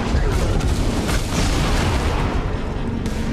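Gunfire from Destiny 2, dense and continuous, with heavy booming shots blending into a loud, sustained barrage throughout; voices talk over it.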